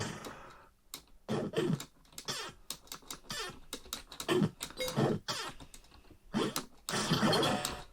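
Computer keyboard keys tapped rapidly to play a Commodore 64 emulator game on a Raspberry Pi Zero, a close, busy run of clicks and clacks in irregular bursts with short pauses.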